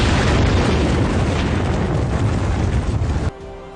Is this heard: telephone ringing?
no